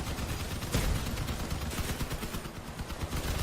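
Gunfire from combat vehicles in the Crossout battle game rattles in dense, rapid bursts, loud and continuous, with a heavier blast near the start and steady firing clatter throughout.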